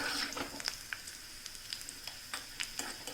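Thick orange peel frying in a pan, a faint soft sizzle with scattered light crackles and pops, no voices.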